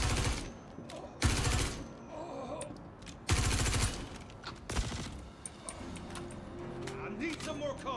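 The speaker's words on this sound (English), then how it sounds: "Laying down covering fire." Covering fire in a video game, heavy bursts of shooting hitting in a few loud clusters separated by quieter stretches, with a voice speaking between the volleys.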